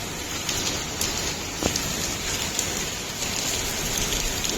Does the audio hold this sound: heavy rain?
yes